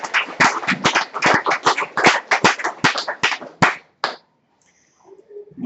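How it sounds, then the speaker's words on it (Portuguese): A church congregation claps in a loud, uneven burst of applause that stops abruptly after about four seconds, followed by faint quiet room sound. "Uma salva de palmas para o Senhor Jesus."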